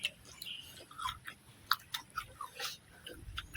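Someone bites and chews fresh shrimp with Mama instant noodles in a spicy fermented-fish salad, producing soft, close, irregular crunches and smacks.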